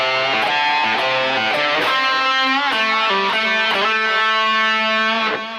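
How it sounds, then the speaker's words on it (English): Distorted electric guitar plays a pentatonic lick, a fast run of sustained, bending notes, loud and close with no talk. "this is a pretty cool little pentatonic lick"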